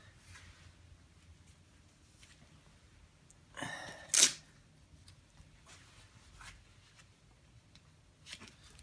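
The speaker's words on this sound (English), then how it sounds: "give this tape a little spray" A short hiss of aerosol spray onto grip tape, then a sharper, louder burst, in an otherwise quiet room with small handling noises.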